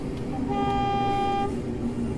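A single sustained train horn toot in a video game, from a Class 421 electric train, lasting about a second, steady and moderately loud, over a constant rumbling engine background.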